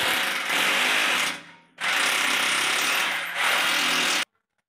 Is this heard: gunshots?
no